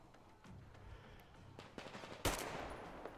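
Gunfire in the video game Metro Exodus, a few muffled shots followed by a loud sharp burst and echoing cracks, fairly faint overall.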